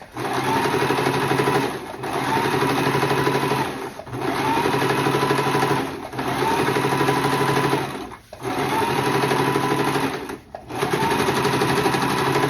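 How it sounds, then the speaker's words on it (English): Sewing machine stitching around a Halloween raven's claw craft, running in loud close bursts of about two seconds each, separated by short pauses as the fabric is turned. "and just sew it around"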